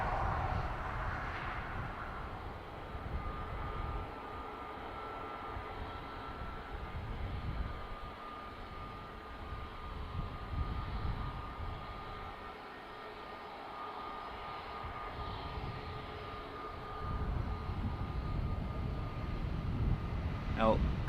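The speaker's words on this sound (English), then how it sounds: "And we got it taken off on 28 left." An Aer Lingus jet airliner takes off from runway 28 left at Dublin Airport on an evening, heard from far away as a steady, low, rumbling roar that swells toward the end, with faint voices in the background.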